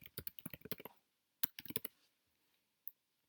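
Close, quiet keystrokes on a keyboard: a quick run of about a dozen taps, a pause, another short burst of clicks, then one final isolated tap.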